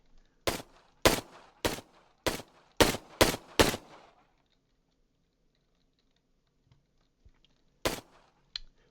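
Gunshots fired with a left mouse click in a video game, seven sharp evenly spaced cracks in quick succession, then a pause and two more isolated shots, loud and close with no talking.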